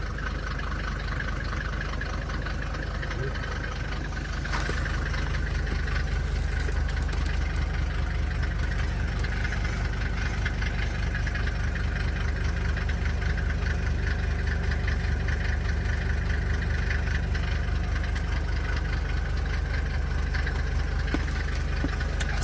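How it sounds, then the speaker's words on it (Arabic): A 1995 Mercedes 250 diesel idles steadily, its low engine rumble and clattering knock running continuously and close for over twenty seconds, with no talking. "باقا نقيه كما سمعتي الضربه ديال الموتور"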